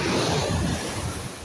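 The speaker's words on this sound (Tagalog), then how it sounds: "Ang lakas ng alon guys" Strong surf roars continuously, waves breaking loudly and close, with gusty wind buffeting the microphone.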